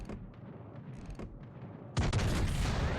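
Battleship guns on the USS West Virginia firing in World of Warships Legends, a heavy boom that rises into a loud, sustained rumbling salvo after a quieter stretch of low creaking.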